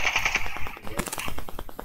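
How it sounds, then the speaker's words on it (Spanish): Gunfire from the mobile shooter game Call of Duty Mobile: fast, tightly spaced shots in a continuous rattling burst that runs the whole moment at steady loudness, with no clear talk over it. "Mira, disparo."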